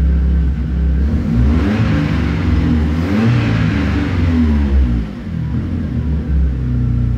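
A Volkswagen Fox engine runs with a sensor disconnected while the car loses power and stalls, giving a steady close rumbling idle with slight fluctuations, loud and continuous, no talking.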